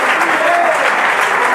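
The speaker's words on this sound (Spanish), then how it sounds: "Sostenga ese aplauso" Sustained congregation applause at a church service, steady and dense across the whole stretch, loud and close, with no pauses.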